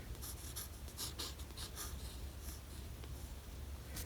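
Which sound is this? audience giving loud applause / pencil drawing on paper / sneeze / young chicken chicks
pencil drawing on paper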